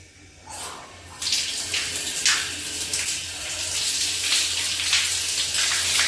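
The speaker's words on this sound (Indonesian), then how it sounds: "Oke, kita coba keran airnya ya." A bathroom tap at a glamping resort in Wonosobo is turned on and water runs steadily into the basin. A soft, steady hiss and splash starts after a brief quiet moment and continues without a break.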